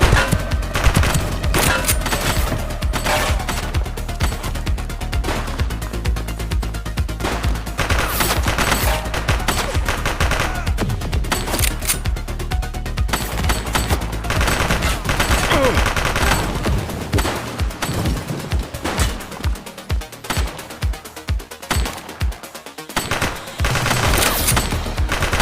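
Dense gunfire in a police shootout in the video game The Precinct, loud rapid bursts and single shots hammering almost nonstop over a music bed, with brief shouted voices.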